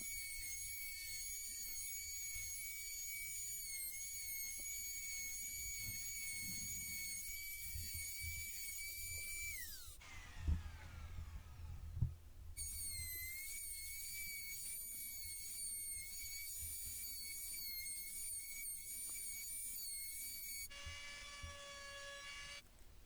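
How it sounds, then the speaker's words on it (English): A router fitted with a round over bit cutting the edges of scrap wood heart decorations: a loud, steady high whine in two long passes, broken by a short pause with a couple of knocks, then a brief spin-down. "So I have a round over bit in my router, and I'm going to go around the front and back and just smooth over all those edges."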